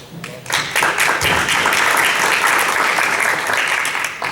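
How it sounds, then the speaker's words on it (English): Audience applause for students as their names are read out at a school board meeting, steady dense clapping that swells in after a brief quiet start and holds loud throughout. "so we can give them a round of applause"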